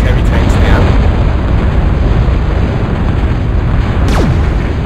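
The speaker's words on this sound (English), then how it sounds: "what he's just done there is hit these tanks with an EMP bot" Explosive booms from a stealthy EMP kamikaze bot striking heavy tanks in the NOTA real-time strategy game, a loud continuous rumbling barrage with a sharp zip near the end, heard alone without talk.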